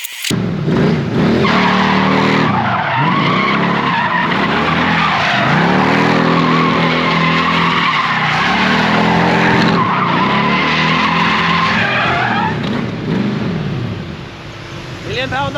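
Tyres skid and squeal loudly and continuously as a replica Ferrari F40 spins donuts, the engine note rising and falling in repeated sweeping cycles, with people talking in the background.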